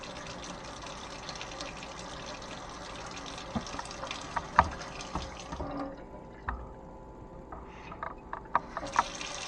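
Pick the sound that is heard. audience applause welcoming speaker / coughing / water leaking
water leaking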